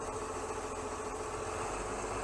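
A YTO NLX 1404 tractor engine runs steadily in first low gear, producing a constant, close mechanical drone with no talking.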